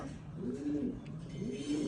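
A pair of Red Magpie Danish pigeons coo softly in a few low, rolling calls, close by and fairly quiet.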